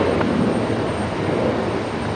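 A Velocity flight 73 airliner departing runway 01 right at Brisbane Airport at night, heard as a steady, loud broadband engine roar that holds constant throughout with no voices.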